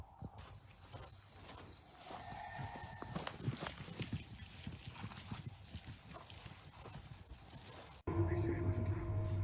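Horse hooves clop steadily with an occasional whinny, set against a constant chorus of crickets and insects outdoors, before an abrupt cut to a different, louder sound near the end.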